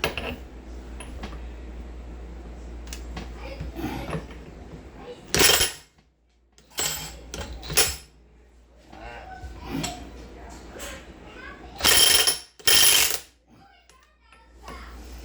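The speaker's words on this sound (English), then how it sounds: "now we're going to spin this castle nut off of here" A reverse-threaded castle nut is spun off the crankshaft of a GY6 150cc scooter engine, giving metallic ratcheting and clinking in short bursts between quiet gaps.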